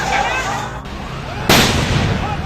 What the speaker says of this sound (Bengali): পরবর্তীতে সাউন্ড গ্রেনেড নিক্ষেপ করে জনতাকে ছত্রভঙ্গ করা হয়